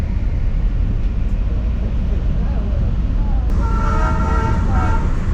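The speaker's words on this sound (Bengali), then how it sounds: "এখানে ভেতরে ছিল ট্রেনটা বাইরে এলো আবার চলে যাচ্ছে" A Darjeeling toy train rumbles loudly nearby, then a steady horn-like tone sounds as it pulls away, with faint voices underneath.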